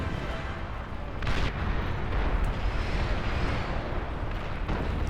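Artillery fire in a large battle in the real-time strategy game Beyond All Reason, heard as a dense, continuous rumble of distant booms and blasts that swells slightly after the first second and holds steady.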